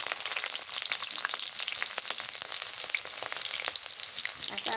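Onion and garlic fry hard in hot oil for a greens stir-fry, a loud, steady, close crackling sizzle with dense popping throughout and no voices.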